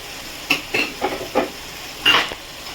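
Chopped tomatoes and onions sizzle in a hot pan while being stirred, close scraping strokes coming in several distinct bursts over a low frying hiss.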